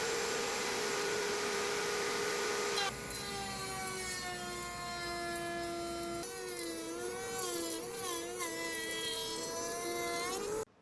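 A router table runs steadily, cutting slots into the rails of a wooden barn door panel. The whine is continuous and fairly loud, with a shift in pitch partway through as the bit loads in the wood.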